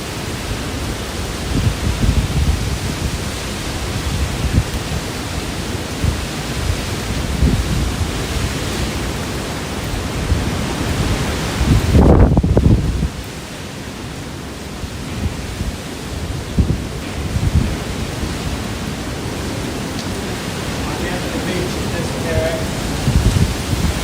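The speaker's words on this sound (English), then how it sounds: "you can hear these gusts as they're coming through the city" Typhoon Pepito (Man-yi) wind gusts sweep through the city of Baler, Philippines, a steady loud roar with one heavier buffeting surge near the middle, and a voice comes through faintly under it.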